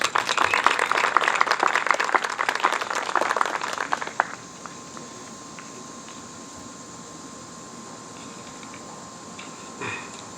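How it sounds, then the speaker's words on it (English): An audience at a Republican political event gives a candidate for county council a round of applause, a moderate burst of many hands that stops abruptly, leaving a quiet room hum with a faint tone. "give him a warm round of applause"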